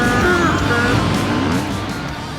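Steady, loud engine roar from a dirt bike in the Monster Energy Supercross video game, droning continuously with a slight fade toward the end.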